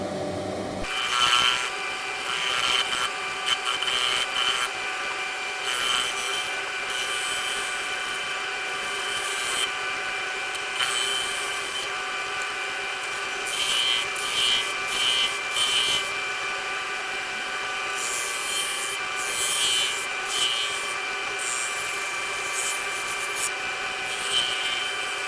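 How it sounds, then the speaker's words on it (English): Sandpaper rubbing steadily along the rounded front edge of a turned wooden cheese board, a continuous close scratchy friction with slight strokes in intensity and no talk. "Nicely sanded off using the full grades of sandpaper as we did before"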